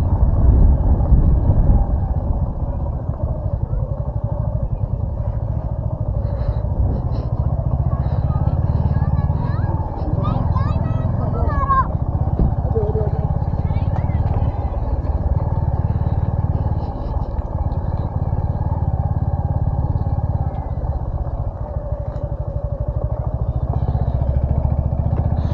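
A vehicle engine labours in first gear on the mountain road between Khoksar and Chandrataal Lake in Spiti, a steady low rumble held for the whole stretch while people talk over it.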